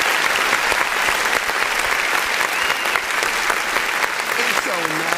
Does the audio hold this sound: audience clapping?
yes